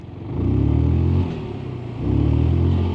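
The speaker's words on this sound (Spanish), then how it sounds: "Yo tengo que hacer ahí para que la moto acelere" A Zontes 368E motorcycle engine revs twice as the throttle is opened, each swell rising sharply, holding, then dropping back to a lower idle. The engine is close and loud, with no talking.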